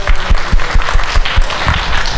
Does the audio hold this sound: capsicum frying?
no